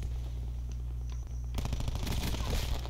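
Gunfire in the multiplayer shooter Black Ops 4: a low steady hum gives way halfway through to rapid automatic bursts, loud and close, running dense to the end.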